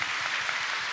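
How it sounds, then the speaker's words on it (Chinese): A church congregation claps in a brief, dense burst of applause that stays steady and fairly loud. "我们热烈掌声欢迎他们"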